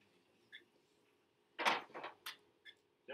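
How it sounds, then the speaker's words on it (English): Doors slamming nearby, a cluster of several dull, thudding bangs with short sharp knocks following, rising out of a quiet room. "slamming doors over there, man."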